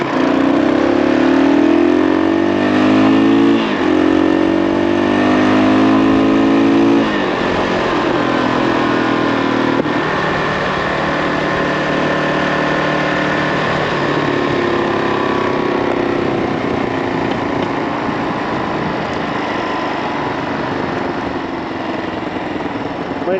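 A Kawasaki KLR 650 motorcycle engine runs close by, revving and then settling, with light popping on deceleration from a carburetor that may need adjustment; steady and loud throughout.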